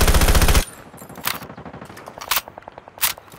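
Unsilenced automatic gunfire in Call of Duty Mobile opens with a loud rapid burst, then cuts to quieter scattered shots and a few sharp louder reports.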